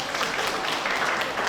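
An audience at the 66th Dies Natalis ceremony of the USU Faculty of Agriculture applauds the organizing committee in a short, even burst of clapping.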